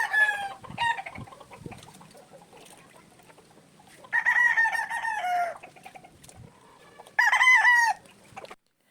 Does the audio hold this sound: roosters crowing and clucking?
yes